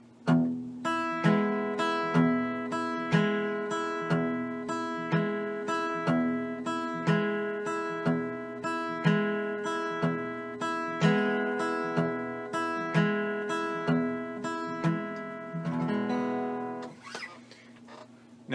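Guitar is picked with a steady thumb bass alternating evenly with plucked melody notes, clean and close, ringing through a continuous rhythmic pattern until it fades at the end.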